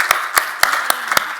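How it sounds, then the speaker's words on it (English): A few evenly spaced, distinct claps at a financial services conference session after a panel discussion, steady and close, like a small group or single person clapping in rhythm. "We're going to applaud you as well."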